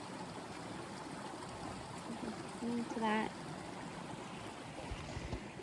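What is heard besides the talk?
small stream flowing water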